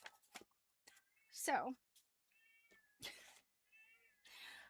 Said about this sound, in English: not sure if you can hear in the background is my cat yelling and screaming while I was gone